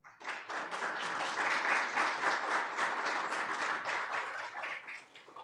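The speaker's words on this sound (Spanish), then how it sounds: "le damos la bienvenida con un fuerte aplauso" An audience at a conference greets a speaker with firm applause, sharp clapping that swells quickly, stays full and bright, and starts to thin out near the end.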